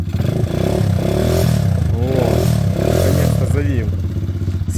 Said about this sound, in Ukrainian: Все, ще прогазовуй.